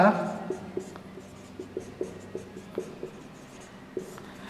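Chalk or marker strokes on a classroom board while a Class 10 maths solution (prime factors of 5005) is written: a steady series of short, sharp taps and scratches, about a dozen spaced strokes, moderately close.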